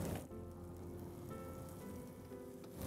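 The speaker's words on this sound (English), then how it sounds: "Let it saute for a couple of minutes" Ginger and garlic paste sizzles steadily in a hot pan while sautéing for chicken biryani, a soft, even frying hiss that carries on without a break and fades at the end.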